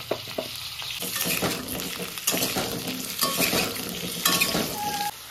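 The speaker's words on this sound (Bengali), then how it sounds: "মাংস করার জন্য প্রথমে আমি আলুটা ভেজে নেব" Potatoes fry in refined white oil in a pan, a loud close sizzle broken by repeated scraping stir strokes and light metallic clicks.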